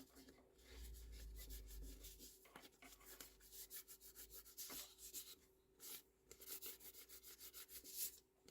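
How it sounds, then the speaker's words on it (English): A bone folder rubs and burnishes glued paper flat while cards are being made, giving a steady, quiet scraping rasp with short repeated strokes, close up and faint, with no voices. "I'm just rubbing on, burnishing it on with the bone folder, just to make sure it's all really stuck on"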